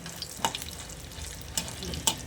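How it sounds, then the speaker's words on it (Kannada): Cinnamon and cloves dry-roasting in a pan give a faint, steady crackle, with a few sharp scrapes and clicks as the spices are stirred, and no voices. "ಚಕ್ಕೆ ಲವಂಗ ಹಾಕೊಂಡೆ ಇದನ್ನು ಸ್ವಲ್ಪ ಚೆನ್ನಾಗಿ ಹುರ್ಕೊಂಡ್ರೆ ರುಬ್ಬೋದಾಗಲೂ ಚೆನ್ನಾಗಿ ಅನಿಸುತ್ತೆ"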